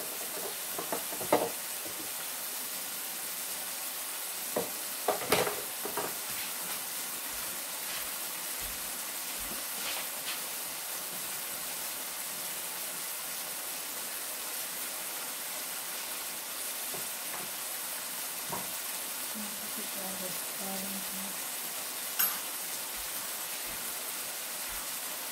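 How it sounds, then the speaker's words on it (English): Saltfish fries and sautés with vegetables in a pan for Jamaican ackee and saltfish, a continuous soft broadband sizzle with scattered clicks and light utensil taps, no talking. "Just gonna let the saltfish fry out a little bit, simmer, saute a little bit with the vegetables before I add the ackee."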